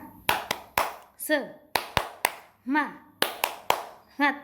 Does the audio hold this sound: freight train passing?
no